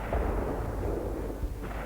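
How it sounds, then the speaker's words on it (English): Artillery explosions from a Russian Civil War battle on the Eastern Front rumble as dense, low booming thuds, continuous and heavy with a few sharper bursts near the end. "the ground shook with explosions as the Red Army launched yet another major offensive"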